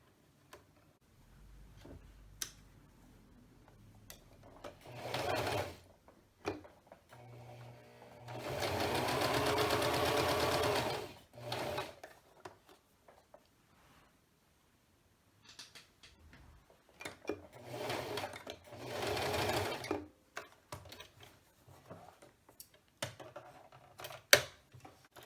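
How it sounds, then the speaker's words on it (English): A sewing machine stitches a home-made fabric face mask in several bursts of steady mechanical whirring, the longest lasting a few seconds, separated by pauses with faint handling clicks; no voices. "I'm taking this to my sewing machine"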